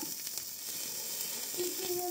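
Migliacci batter cooking gently in a pan, a quiet, even sizzle with soft crackles and brief faint tones of a voice in the background.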